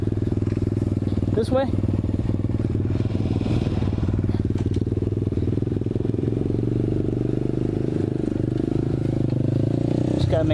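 An Apollo 125cc dirt bike engine runs steadily in third gear on muddy trails, a close, continuous buzzing drone with slight pitch shifts, while a voice briefly speaks over it.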